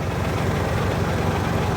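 A Hino K13-C common-rail diesel truck engine, refitted with a 6UZ control box, idles steadily during a cylinder cut test, giving a continuous low, rumbling drone with no talk over it.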